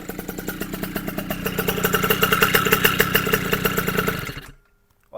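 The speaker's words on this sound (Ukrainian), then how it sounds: "дивіться, як він глушиться" A Yamaha Aerox scooter engine idling close up with a fast, throbbing pulse that swells slightly, then is switched off and dies away abruptly, leaving near silence and a small click.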